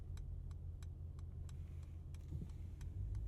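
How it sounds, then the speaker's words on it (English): A car's turn signal ticks at a steady, even rhythm inside the cabin, with crisp, fairly quiet clicks over a low, constant engine hum. "Turn signal sound"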